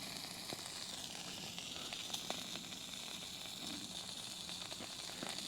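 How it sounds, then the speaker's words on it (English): A thick steak sizzling in a pan, a quiet, steady hiss with scattered small pops and crackles, close and continuous. "You can see it cooking there. I've got it simmering. It's a pretty thick steak."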